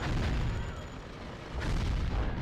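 Chaotic gunfire and rocket blasts in the Gungrave shooter game, a dense wall of rumbling booms and shots that swells again near the end, loud and continuous.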